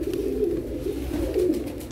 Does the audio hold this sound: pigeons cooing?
yes